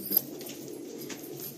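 Soft, low cooing of a breeding pair of domestic pigeons, a steady murmuring purr close by with no talk over it.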